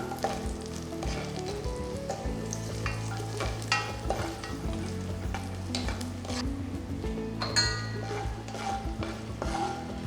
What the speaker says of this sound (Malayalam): നട്ട്സും റൈസിൻസും നമ്മൾ ഫ്രൈ ചെയ്തു.